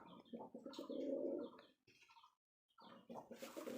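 A male Jak Dobaj Rajshahi Giribaj pigeon coos up close in short throaty bursts, with a brief pause before the cooing resumes, and no talk is heard.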